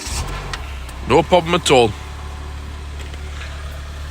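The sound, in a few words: Renault Clio engine starting and idling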